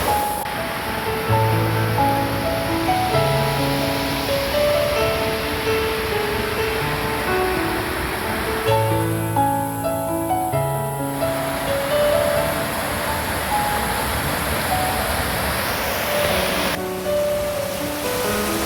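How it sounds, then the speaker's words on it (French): Waterfalls cascade along a Pyrenees mountain trail near Mosset, a steady, loud, broadband rush of falling water that holds constant throughout, with no speech. "Des cascades à perte de vue."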